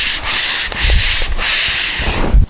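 A hard sanding block rasps back and forth across a car's rear bumper in steady, close strokes, a loud continuous scratchy hiss with brief pauses at each change of direction.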